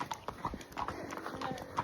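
A pony's hooves clip-clop on a road in a quick, even walking rhythm, close by and fairly quiet.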